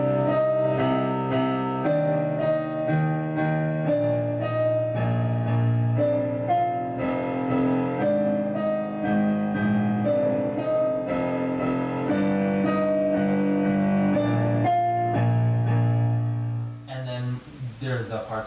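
Solo piano plays a section of a piece as a steady, continuous run of chords and melody for most of the passage. It stops near the end, and a brief noise follows.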